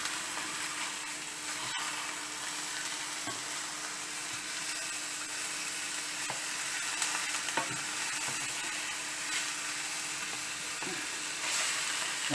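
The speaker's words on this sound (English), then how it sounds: "and fry it on the other side" Steak stuffed with oysters fries in a pan with oil, a steady soft sizzle and crackle broken by occasional scrapes and taps of a utensil turning the meat, fairly quiet and without speech.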